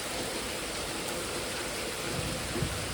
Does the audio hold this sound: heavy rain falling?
yes